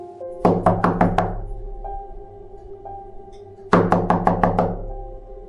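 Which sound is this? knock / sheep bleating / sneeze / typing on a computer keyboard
knock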